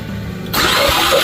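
A 2016 Ford Escape 2.0 turbo engine cranks over with the throttle held open during a compression test. A loud, steady cranking whir cuts in abruptly after a brief quiet moment.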